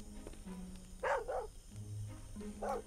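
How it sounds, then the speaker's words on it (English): A dog in the survival video game Mist Survival barks twice in quick succession, then once more, quiet and slightly distant amid low game ambience. "The doggo actually barks as well."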